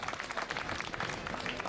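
Faint, distant applause fills a cycling award ceremony at the Tour de la Manche finish in Granville as the crowd claps for a rider. The clapping is soft and continuous, with no clear voices.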